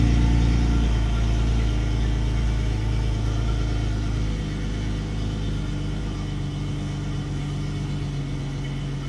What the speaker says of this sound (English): while we're up here running this motor, I want to show you, it's fired up right now